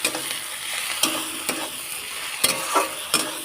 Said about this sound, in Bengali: আরেকটু হলুদ দিয়ে এবার আরেকটু ভালো করে ভাজা ভাজা করব